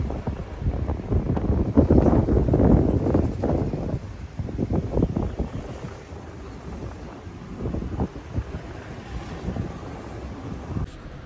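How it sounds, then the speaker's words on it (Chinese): Strong wind off a riverbank roars and buffets the microphone, loud gusts rising and easing in long waves beside a wide river in a town. "今天的风有点大啊，"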